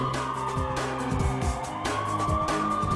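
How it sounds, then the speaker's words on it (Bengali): Police siren outside in the video game GTA San Andreas, a wailing tone rising and falling over game car noise and engine rumble, moderately loud and steady. "ওই যে বাইরে সাইরেন শুনতেছিস না"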